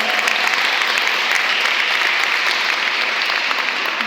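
Church congregation clapping in praise during a Spanish sermon, a steady wash of many hands applauding without pause, moderately loud and near.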